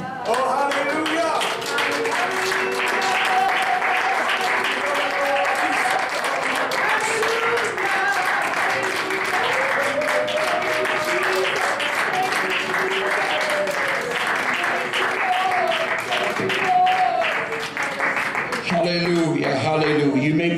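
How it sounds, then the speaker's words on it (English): A church congregation claps along during worship, rhythmic hand claps mixed with singing voices and organ or keyboard tones throughout, ending with a shift in the music. "Let's just clap our hands unto the Lord this morning"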